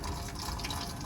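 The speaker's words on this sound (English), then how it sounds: "Filling bottles." Water splashing and trickling steadily into bottles being filled on a narrowboat, a continuous liquid rush with a gurgling texture, close by and alone.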